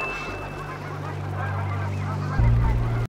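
Geese honk loudly nearby in a rapid series of nasal calls, with a louder burst of honking near the end, no speech.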